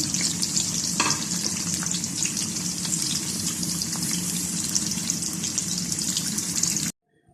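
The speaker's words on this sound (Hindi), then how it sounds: "इस ऑयल में हम प्याज शामिल करेंगे और अब प्याज को भी ब्राउन करेंगे" Onions fry in a generous amount of hot oil for a bitter gourd (karela) dish, giving a dense, continuous close sizzle with occasional stirring clicks until it cuts off abruptly near the end.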